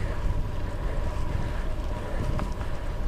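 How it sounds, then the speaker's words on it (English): Steady wind buffeting a microphone while cycling uphill on a bike commute, a constant close broadband rush and rumble that never lets up across the whole stretch. "there's some wind against me"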